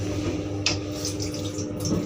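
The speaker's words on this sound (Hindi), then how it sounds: "पानी भी आ रहा है" Tap water runs steadily inside a train toilet on an express service, a close, continuous hiss with a brief louder splash partway through, no talk.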